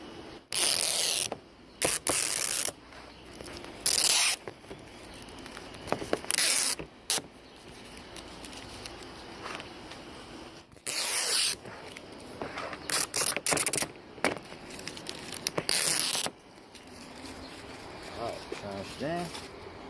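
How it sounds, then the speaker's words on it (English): Adhesive backing is peeled off a rear roof visor for a Nissan Maxima in several bursts of loud ripping and crackling, separated by quieter stretches of handling noise, with someone talking in between. "peel this whole thing off so you can stick it on there"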